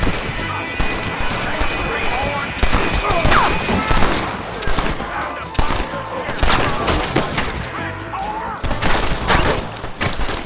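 Dense gunfire rattles through a Red Dead Redemption shootout, with rapid overlapping shots and sharp cracks from several guns, loud and continuous, while voices shout over the fighting.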